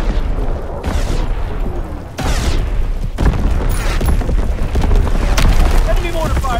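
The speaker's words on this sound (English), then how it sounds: "Incoming enemy artillery!" Artillery and mortar shells burst in a Call of Duty WWII multiplayer match, with heavy booming explosions landing every second or so amid battlefield rumble and shouted in-game voice callouts.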